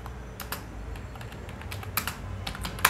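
Irregular clicking of keys as text is typed on a computer keyboard, close and moderately soft, with bursts of keystrokes over a faint background hiss and no voices.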